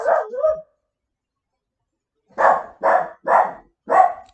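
A small dachshund barks four times in a quick, loud, close burst, each bark sharp and evenly spaced, after an earlier short bark or whine and a brief silence.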